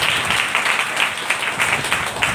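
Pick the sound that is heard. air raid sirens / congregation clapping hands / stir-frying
congregation clapping hands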